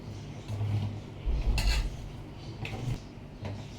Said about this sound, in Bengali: ম্যাগি মশলাটা দিয়ে খুব ভালো করে এখন আমি মেখে নিব।